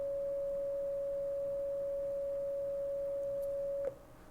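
A steady pure electronic sine-wave test tone with very low distortion, from a triode valve load-line design tool, holds at one pitch for about four seconds, then cuts off abruptly, leaving faint background hiss.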